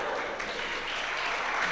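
An audience at a 1972 comic folk stage concert applauds in steady, even clapping from many hands at moderate distance, with no talking during the applause.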